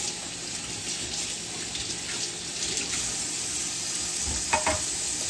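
Tap water runs steadily into a kitchen sink while something is rinsed, a constant close hiss with a couple of short knocks near the end and no talking.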